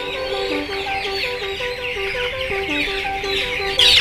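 Chickens cluck steadily and close by during poultry vaccination of 35-day-old birds in Yogyakarta, with overlapping calls from a crowded flock, a rooster-like crow in places and a brief clatter at the end.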